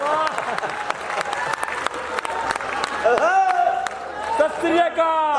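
An audience at a live comedy show claps in scattered, sharp bursts, with a voice talking over and after the applause.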